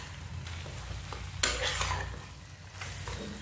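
A spoon stirs chili masala into eggs frying in a pan, giving a soft continuous sizzle with scraping strokes and a brief louder burst of frying partway through.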